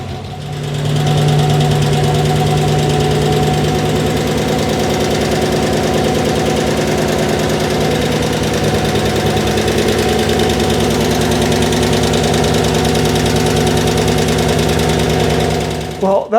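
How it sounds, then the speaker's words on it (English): A 1964 Chevrolet Biscayne engine, unrun for about ten years, fires on its first start and runs steadily with a loud, continuous idle and a rattling knock throughout, then cuts out near the end. "this motor hasn't ran in probably 10 years, so maybe it'll quieten up"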